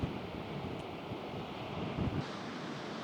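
Ocean waves wash onto the shore at Spit Beach on an overcast day, a broad continuous surf rush with low swells, mixed with gusty wind buffeting the microphone and no voices.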